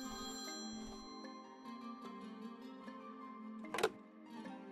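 A telephone rings in the Priest Simulator video game, steady electronic tones holding under a quiet game soundtrack, with a sharp click near the end.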